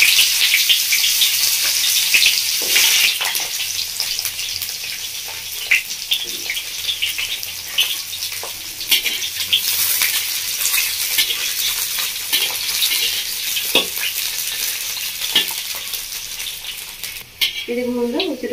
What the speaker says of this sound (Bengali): প্রথমে আমি উচ্ছেটা ভেজে নেব।